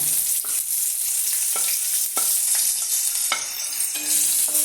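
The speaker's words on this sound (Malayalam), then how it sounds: "ഇതിലേക്ക് ഞാൻ അരിഞ്ഞ് വെച്ച സവാള ഇട്ട് കൊടുക്കുകയാണ്." Chopped onions frying in hot oil with rice ingredients, a loud continuous sizzle close up, punctuated by several spatula scrapes and stirs against the pan.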